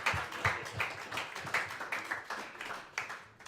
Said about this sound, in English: please give a round of applause to Coach and Ben